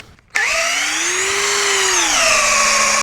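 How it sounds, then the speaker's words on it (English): A cordless drill with a dull bit bores into wet wood, starting abruptly after a brief quiet and whining steadily and loudly, its pitch rising slightly mid-run then dropping a little as it labors, with no talking. "Could be this drill bit's dull too, I don't know."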